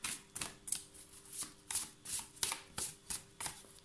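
Tarot cards are shuffled and handled up close in a quick rhythmic series of soft riffling flutters and slaps, fairly quiet, with no one speaking.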